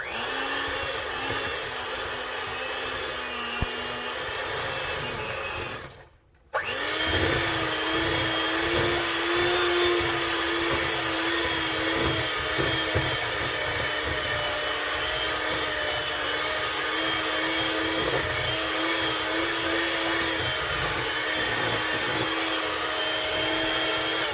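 An electric mixer whirs steadily through pound cake batter, with one brief stop partway before it resumes, a loud and sustained hum close by.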